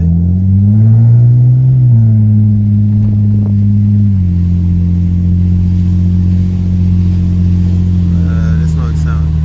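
A BMW E36 with a muffler delete and Rush exhaust revs and holds a loud, steady engine drone that climbs briefly, dips and then settles at an even idle-to-mid rev, close by, with people talking over it.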